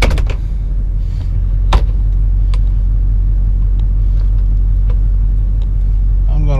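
LBZ Duramax pickup truck pulling out while towing a dozer, a steady, loud low diesel rumble with a few brief knocks and clanks over it.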